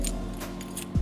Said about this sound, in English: Give me the keys I give to you in case of eventualities.